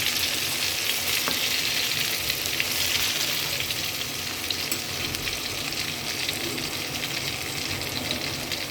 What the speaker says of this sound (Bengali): তেলটা আমার একদম হয়ে গেছে, এখন আমি এগুলোর মধ্যে বেগুনগুলো ছেড়ে দিব।